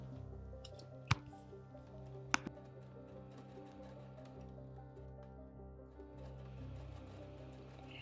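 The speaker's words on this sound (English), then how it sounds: "Now, sew each side, leaving about a 1/2-inch pocket on each side." A sewing machine runs quietly, stitching the sides of a fabric face mask, a soft steady hum with two sharp clicks early on, faint and close.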